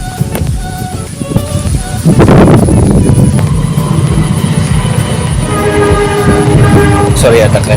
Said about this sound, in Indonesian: Sorry ada kereta